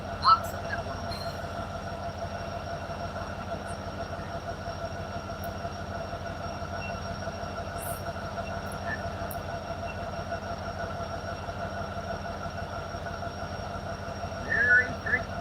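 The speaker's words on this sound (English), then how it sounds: "After that engine train goes by" An engine-hauled train rolls past near a quiet river, a steady loud rumble of wheels and cars that runs the whole time, with faint squeals and clanks on top and a brief rise at the end.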